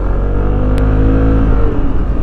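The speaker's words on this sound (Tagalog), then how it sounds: "Ang tunog ng makina para siyang nanggigigil na smooth eh" A QJ Motor Fortress 160 motorcycle engine revs steadily and loudly, a smooth, continuous throaty drone with no talking.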